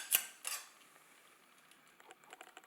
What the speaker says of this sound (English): I'm going to take my knife, remove, cut it open, cut all this extra stuff